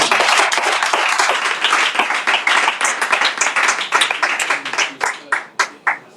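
A church congregation applauds loudly and steadily, the clapping dense at first and then thinning into slower, separate rhythmic claps near the end.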